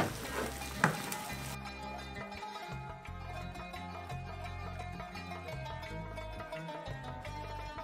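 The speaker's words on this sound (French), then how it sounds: "on peut rajouter le mélange de poivrons, piment et tomates et laisser revenir quelques minutes" Peppers, chili and tomatoes frying in a pan, a steady close sizzle with occasional stirring scrapes and a brief utensil clink near the start, continuing throughout without talk.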